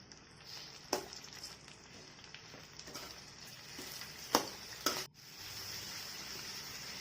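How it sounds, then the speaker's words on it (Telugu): Chopped tomatoes frying in a pan for chicken gravy curry, a steady close sizzle with a few sharp clatters and stirring knocks, no talking. "మనం ముందుగా తరిగి పెట్టుకున్న టమాటోస్ కూడా వేసుకోవాలి వాటిలో"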